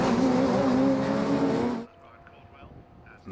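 Radical SR1 race cars roar past at Donington Park, a loud engine drone with rising pitch that cuts off sharply, leaving faint distant track noise.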